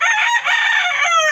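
A pet rooster crows loudly and close by in one sustained cock-a-doodle-doo, with a brief dip partway through. No voices are heard.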